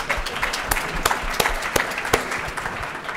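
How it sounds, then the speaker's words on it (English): An audience at a software conference Q&A panel claps together, a brief burst of steady, moderately loud applause from a seated crowd, with a few sharper individual claps standing out. "Give that one a clap."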